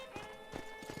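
Horse hooves in the game Red Dead Redemption clop in a quick uneven rhythm over a steady background hum, close and moderately loud.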